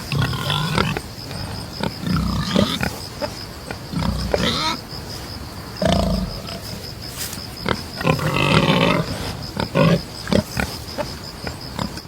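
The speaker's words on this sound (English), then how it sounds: "they might seem like a wilder version of a domestic pig" A wild pig, a stocky, warty relative of the domestic pig, gives repeated close, rough grunts and snorts in irregular bursts, with brief rustling between them.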